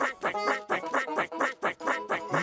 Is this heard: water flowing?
no